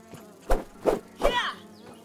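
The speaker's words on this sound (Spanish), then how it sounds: "Moscas." Flies in the game Grounded, several close buzzing swells passing by in short bursts, the last one drawn out with a wavering pitch, over a faint steady background hum.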